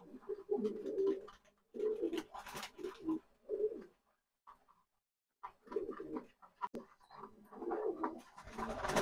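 Pet doves coo in repeated low, throaty bursts while eating grit, fairly close, with a brief quiet gap midway before the cooing resumes.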